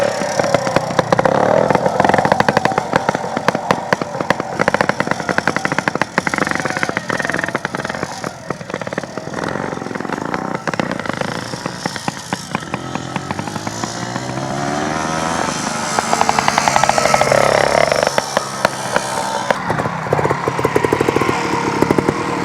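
An older-style trials motorcycle at a moto trials event, its engine buzzing and revving continuously at moderate distance, rising and falling outdoors with no talk.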